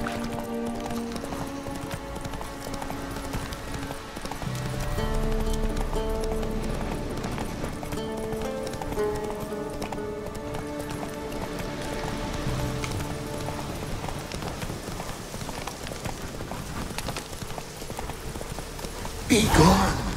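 A horse galloping in The Witcher 3 video game, rhythmic clip-clop hoofbeats running steadily under a music score, with a brief louder burst near the end.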